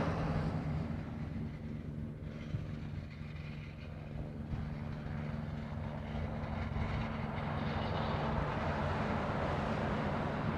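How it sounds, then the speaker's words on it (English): A Rainbow Helicopters helicopter flies near Honolulu airport with a steady, continuous engine and rotor drone. It sounds moderately distant and holds an even level throughout, with no talking. "It's rainbow helicopters."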